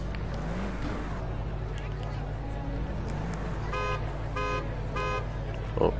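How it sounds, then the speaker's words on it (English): A car horn in the Lego Jurassic World video game sounds three quick honk bursts in a row, moderately loud over a game soundtrack and engine hum. "Oh, bit of horn."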